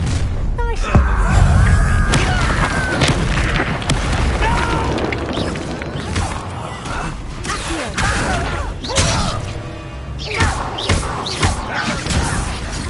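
Explosive spell blasts and crashing impacts during a Hogwarts Legacy video game fight, a dense, loud run of booms and thuds with game sounds layered throughout.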